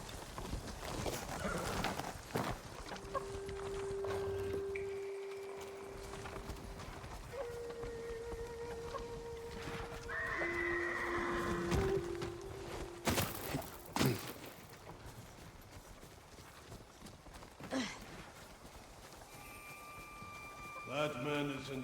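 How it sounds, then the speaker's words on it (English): Horses gallop in Ghost of Tsushima with rhythmic clip-clop hoofbeats, occasional whinnies and scattered game effects, all fairly quiet beneath ongoing character dialogue. "Follow those horses."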